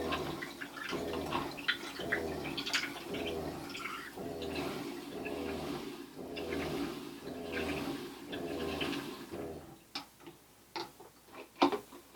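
Water runs and splashes into a glass jar in a steady gurgling stream, followed by a few sharp clinks and taps near the end.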